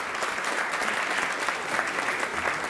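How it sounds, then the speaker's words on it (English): Sustained audience applause fills the hall at an Anugrah Utsav 2022 celebration after a musicians' upbeat medley, a dense, steady wash of many hands clapping with no voices rising above it. "Very big round of applause."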